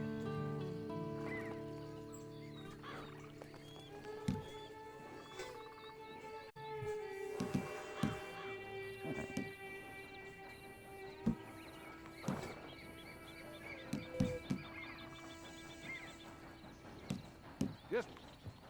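A horse in Red Dead Redemption 2 whinnies and then clops along with scattered hoofbeats growing more frequent, set against soft game music and faint background voices.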